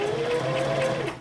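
A sewing machine stitches felt for an owl stuffy, a close, steady mechanical whirr with rapid needle chatter running for about a second before tapering off.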